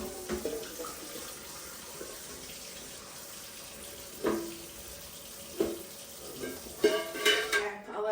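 Water runs from a tap in a steady stream into a pot for eggs, with a few clinks and knocks of dishes or a pot in a sink.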